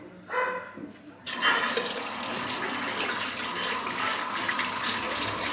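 Tap water splashes as a shaving brush is rinsed under it, starting with a brief spurt, then gushing steadily at close range after about a second.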